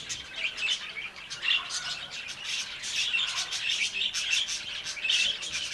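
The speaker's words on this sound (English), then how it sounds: "The birds felt it too, more active and cheerful, singing and flying as if the whole aviary woke up with a smile." Many birds chirp and sing inside an aviary in Sarajevo on a mild spring morning, overlapping high tweets and calls at moderate distance, fairly faint, with no talking.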